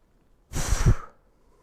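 A single audible exhale during a workout stretch, a breathy push of air lasting about half a second, close and clear against quiet.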